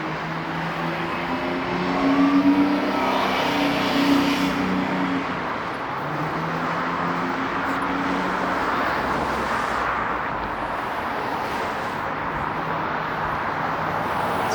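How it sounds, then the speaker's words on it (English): An old bus rolls past on Yonge Street in midtown Toronto, its engine a steady broadband rumble that swells for a few seconds as it nears, then settles into ongoing traffic and street noise. "And look at that old bus."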